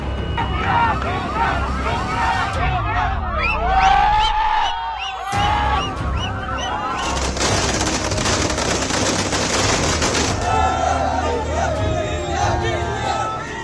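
Firecrackers burst in rapid crackling volleys amid a cheering, chattering crowd celebrating India's women's World Cup win, the dense popping strongest in the middle stretch and mixed with loud voices throughout.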